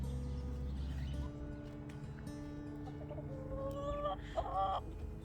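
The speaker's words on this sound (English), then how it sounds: "This chicken has a beef with Gary." A chicken clucks close by in short rising calls that grow louder toward the end, over a steady low hum of background noise.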